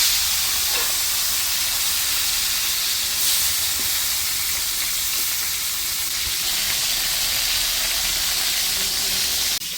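Fish bones fry in hot oil in a pan on the stove, giving a loud, constant hissing sizzle that holds steady from start to finish, close up with no speech.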